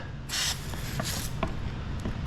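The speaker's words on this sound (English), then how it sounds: "Now let's go ahead and spray some tack in here." A few soft bursts of hissing tack solution spray, each a short whoosh close by, separated by brief pauses over a low steady background hum, during paint protection film installation on a Ford Mustang Shelby GT350 hood.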